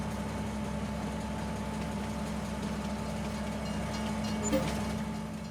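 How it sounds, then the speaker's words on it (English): A log-hauling freight train in Farming Simulator 22 rumbles along with a steady, dense engine drone and faint rail rattle, holding an even level with one small clunk near the end. "So the train will now deliver to Elm Creek and return the other side of the map."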